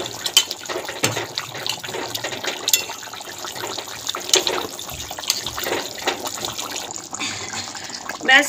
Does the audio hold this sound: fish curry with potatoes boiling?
yes